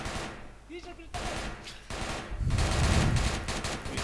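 Machine-gun fire in the ARMA 3 military shooter, with a soldier's voice over busy gunfire and battle noise that grows louder and denser toward the end.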